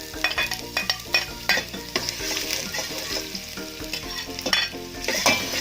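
Garlic frying in hot oil for beef in mushroom sauce, a steady close sizzle broken by repeated scraping stirs of a utensil against the pan.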